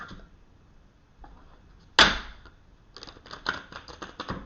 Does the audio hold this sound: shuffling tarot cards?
yes